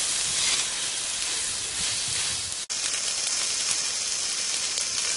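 Ginger garlic paste sautéing in a pan for village-style plain biryani (kuska), a steady close hiss and sizzle throughout with one brief dropout midway, no voices.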